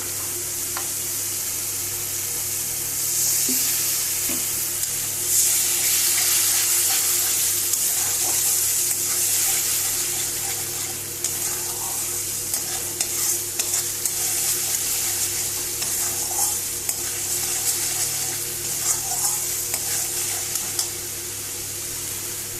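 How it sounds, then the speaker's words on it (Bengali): Ground spices with a splash of water fry in a pan for a fish curry, giving a steady broadband sizzle with scattered crackles and scraping stirs, close and fairly loud throughout, no voices. "সামান্য একটু জল দিয়ে দেবো মশলাটা কষানোর জন্য"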